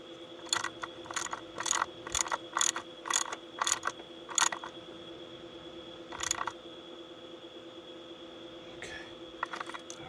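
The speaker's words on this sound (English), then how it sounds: "Socket, tighten that thing down." A socket ratchet tightens an oil pressure sensor on a 2012 Dodge Durango 3.6 L V6, a rapid series of sharp clicking bursts in quick strokes, then a pause and a few final clicks, close up over a faint steady hum.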